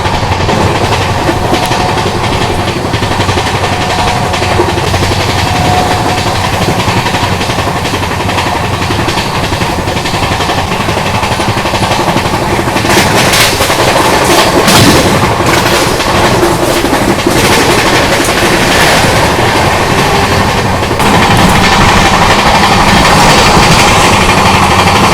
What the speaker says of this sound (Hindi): थोड़ी देर में अपनी क्रॉसिंग होने वाली है Ahmedabad Chennai central superfast express के साथ